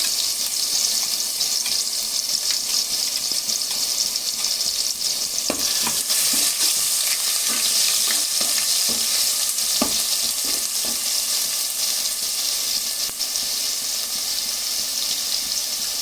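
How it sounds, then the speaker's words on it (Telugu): Curry leaves, cumin and onion paste fry in a pan for a village-style fish curry, a loud steady sizzle with scraping stir strokes and sharp utensil clicks through the second half. "కరివేపాకు అది ఉల్లిపాయ పేస్ట్ వేసానండి"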